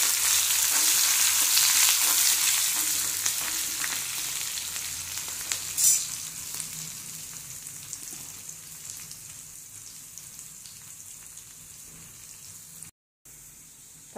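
Green chillies and curry leaves frying in hot oil in a pan, with asafoetida and fenugreek powder, for lemon pachadi: a loud, dense, steady sizzle and crackle with occasional stirring scrapes, gradually easing off.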